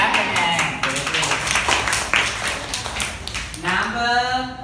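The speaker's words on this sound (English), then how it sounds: "Clap your hand." A primary-school class of young students claps hands together during a maths lesson, producing a dense, continuous patter of claps mixed with children's voices throughout.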